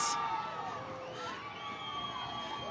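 Crowd at a nighttime Christmas parade in Kannapolis cheering for the police department float, a steady mix of voices and shouts holding at a moderate distance.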